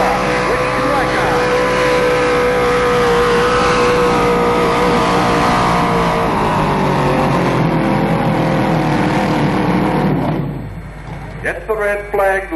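A pulling tractor roars at full throttle during a tractor pull event, loud and continuous with a steady engine drone, then the engine cuts back near the end as a commentator talks over it.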